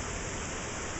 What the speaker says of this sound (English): quite a fair bit of rain going on here